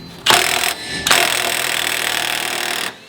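Power tool, likely an impact wrench, removing an axle nut on a Mitsubishi Evo 8: a loud, close, sustained buzzing burst, a brief gap, then a longer continuous run before cutting off.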